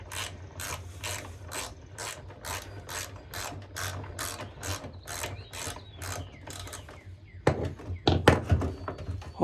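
Socket ratchet loosening a 12mm bolt on a Honda HRX217 mower wheel, a rapid series of sharp clicking pawl strokes, close and crisp, pausing briefly before a final few heavier clunks.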